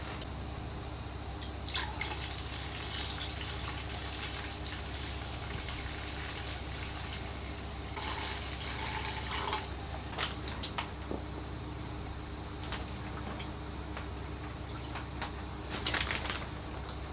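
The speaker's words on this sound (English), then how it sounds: "scoop with the minimum amount of water possible and get the fish into there without it touching the air" Water drips and splashes in a quiet room as a small scoop dips into a tank to transfer fish, with a few soft bursts of sloshing and trickling over a steady low hum.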